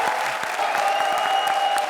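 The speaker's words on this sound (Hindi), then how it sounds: "जोरदार तालियां" A studio audience at a comedy show claps steadily and densely, a continuous wash of many hands sustained at an even, fairly loud level with a little crowd murmur and no break.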